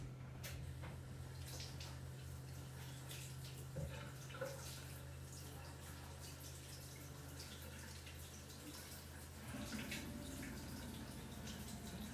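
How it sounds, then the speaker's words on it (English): A kitchen tap runs while hands are washed: a faint, steady stream of water with light splashes and drips, a low hum underneath, and a louder burst of water near the end. "Okay, I'm just going to wash my hands."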